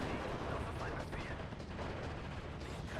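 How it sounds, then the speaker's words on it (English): Artillery fire in the Steel Division 2 war strategy game, a dense continuous barrage of booming blasts and crackling gunfire with no clear gaps, loud and close throughout. "Oh, that artillery."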